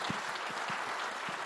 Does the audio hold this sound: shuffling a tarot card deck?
no